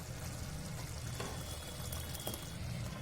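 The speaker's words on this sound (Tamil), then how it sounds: "கூடவே தேவையான அளவு தண்ணி சேர்த்துக்கலாம்." Water is poured into potato gravy in a pan in a kitchen, a soft continuous pouring and splashing with a couple of brief clinks, fairly quiet throughout.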